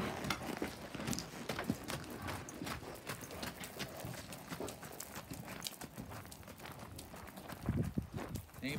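Hooves of a 15-hand bay Quarter Horse gelding clip-clopping in a steady walking rhythm, moderately close, with faint background noise and occasional soft voices.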